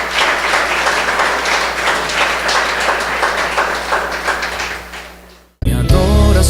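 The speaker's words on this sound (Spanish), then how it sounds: "Denle un fuerte aplauso al Rey" A church congregation applauds at a Sunday morning service: loud, dense, sustained clapping fills most of the stretch, tapering off before music cuts in abruptly at the end.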